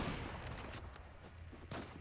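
Gunfire crackles in the online shooter Zula, rapid bursts of shots fairly close in a busy game mix with no talking.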